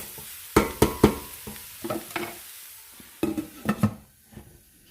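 Ingredients for lentil soup sautéing in a pot, with a low sizzle under scattered clinks and scrapes of a utensil stirring against the pot, quiet and close.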